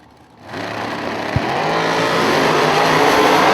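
A bracket racing car launches down a drag strip at a bracket racing event, its engine roaring loud and sustained after a brief quiet start, with no voices over it.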